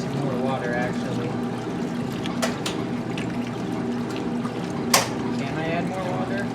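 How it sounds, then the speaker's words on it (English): Water pours steadily into the tub of a 1969 Maytag A106 washing machine, a continuous splashing and gurgling stream with a brief louder splash near the end, heard close. "And add some more water, actually."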